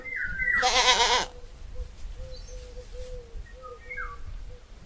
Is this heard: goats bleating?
yes